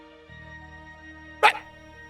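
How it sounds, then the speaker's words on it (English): In Final Fantasy 6 Pixel Remaster, a dog gives one short, sharp bark over a quiet, sustained tonal music bed. "Annoying dog"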